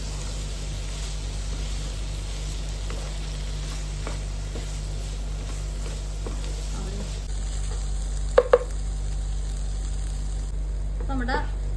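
Shrimp and long beans frying in a pan with a steady, close hiss of sizzling oil and occasional stirring scrapes, a few sharp clinks near the end.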